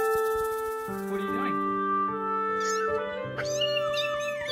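A kitten gives a few short, close meows between bursts of human speech addressed to it, with the cries rising and falling in pitch.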